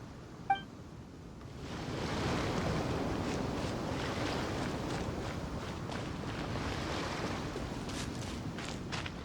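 Steady rushing wind in a video game, a broad whooshing wash that swells in after a brief chime-like tone and holds constant and moderately loud to the end. No voices are heard.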